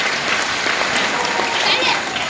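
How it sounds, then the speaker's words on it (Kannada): Loud, continuous audience applause fills a crowded hall during a silver jubilee celebration for Sri Basavaraj Mahaswami, a steady roar of many hands with no pause. "ಅವ್ರಿಗೊಂದ್ಸಲ ಜೋರಾದ ಚಪ್ಪಾಳೆ."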